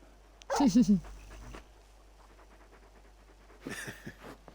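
Torgal, a large dog in the video game Final Fantasy XVI, pants and whimpers in a short close burst, then a second brief round of panting after a pause, with faint background game ambience.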